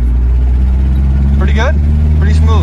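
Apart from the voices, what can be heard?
Nissan S-chassis drift car engine with no exhaust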